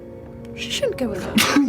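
A single sharp sneeze bursts out near the end, close and loud, amid a few spoken words from people talking.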